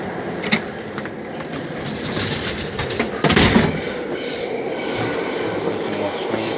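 Subway trains rumble and clatter through the East River tunnel in New York while a stalled 6 train sits without power, a steady low roar with rattling wheel noise, a louder surge midway, and people talking faintly in the car.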